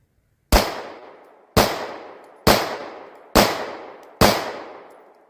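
Five single pistol shots from a Bul Armory Tac Pro 4.25, fired one at a time about a second apart, each a loud sharp crack with a short decaying tail, close by with no talking.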